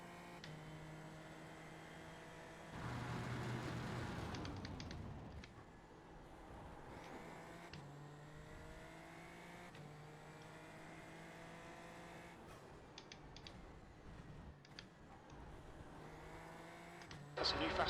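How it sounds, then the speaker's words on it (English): Super Formula Lights race car engine at Twin Ring Motegi in iRacing, a steady high-pitched whine climbing through repeated gear shifts with rising and falling revs, faint and continuous throughout the lap. "just enjoy the sights and sounds of a Super Formula Light at Twin Ring Motegi"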